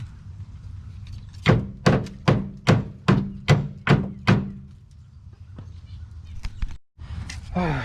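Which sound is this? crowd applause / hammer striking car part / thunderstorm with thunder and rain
hammer striking car part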